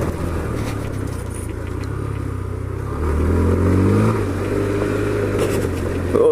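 A Honda Grom motorcycle ridden through town hums along at steady mid-pitch, its engine revving up noticeably partway through before settling back, heard close and alone.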